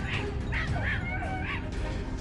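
Hunting dogs yelp and bark at night while tracking wild boar, a run of short, high yips and whines close by over a steady noisy background.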